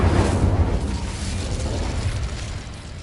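Incendio fire spell cast in Hogwarts Legacy, a loud whooshing burst of flame with a deep roaring rumble that fades gradually over a few seconds, no voices.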